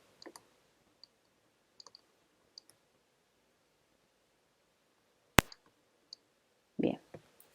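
A pen that will not write is clicked repeatedly: sparse, faint, irregular clicks, one sharp louder snap midway, then a brief burst of sound near the end in a quiet room.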